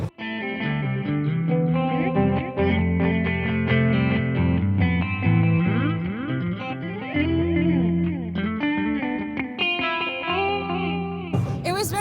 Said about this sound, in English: the original guitar audio is being blended with the chorus